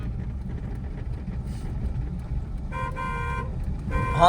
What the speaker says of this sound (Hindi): 3-4 बार नहीं, एक बार लंबा हॉर्न।